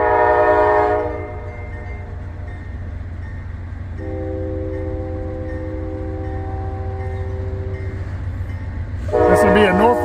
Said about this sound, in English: This will be a Norfolk Southern mixed freight coming through, poking along.